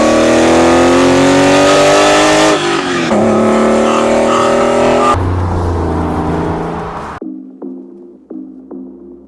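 Porsche 993-generation 911 air-cooled engine revving loudly up through several steps, then falling away to a few sharp blips near the end with a low idle between them.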